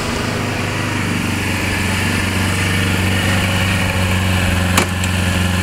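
A 2012 Kawasaki Ninja EX250 engine runs steadily just above idle, a close, continuous buzzing drone with a strong low hum that stays even throughout and ends with a brief click near the end.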